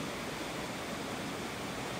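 Steady broadband rush of water pouring over the apex of a weir beside a woodland stream, continuous and fairly loud with no pauses or voices.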